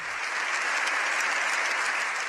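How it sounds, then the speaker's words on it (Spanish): Members of the Spanish parliament stand and applaud the Pope at a joint session of the Cortes Generales, a dense, steady wash of clapping filling the hall without a break. "con sus señorías en pie y aplaudiendo al Santo Padre"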